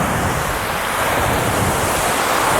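Steady outdoor wind buffeting a microphone during an open-air workout session, a continuous broadband rush with low rumbling gusts that stays loud and unbroken throughout, no voices over it.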